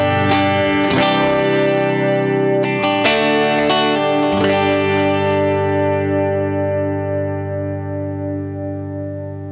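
Distorted electric guitar chords strummed a few times through a miked cabinet, compared against a MESA CabClone, each chord ringing out thick and sustained before slowly fading.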